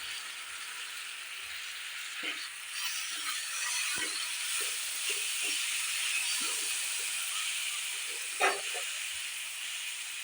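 Soaked red lentils (masoor dal) tipped into fried spices give a steady, fairly close hissing sizzle with scattered faint crackles and one sharper pop, no voices.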